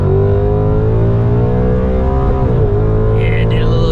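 Tuned E85 Ford S650 Mustang GT with a 10-speed automatic accelerating hard from a 30 mph roll, engine loud and close as it revs up steadily, a brief dip mid-pull as it shifts or spins the tires, then keeps climbing.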